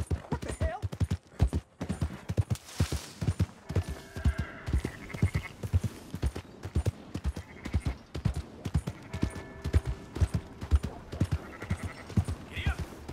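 Horse hooves clip-clop in a steady galloping rhythm throughout in Red Dead Redemption 2, close and continuous, with occasional faint background game sounds and no clear speech.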